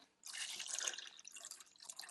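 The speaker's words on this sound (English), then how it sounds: "I'll open this up and I'll pour water in here." Clean drinking water poured from a pitcher into a Freezimer countertop portable ice maker, a steady close splashing trickle lasting about two seconds, with no talking.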